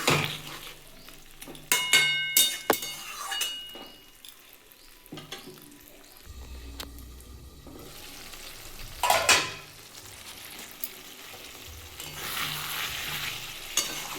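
Potatoes and three green chillies sautéing in a pan for a hand-mashed flat bean and potato dish, with soft frying hiss, scraping stir strokes and sharp utensil clanks on the pan, steady and close, with no talk.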